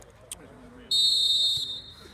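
A referee's whistle blows a long steady shrill blast to start an amateur football match, sounding close over faint background crowd noise after a brief earlier chirp.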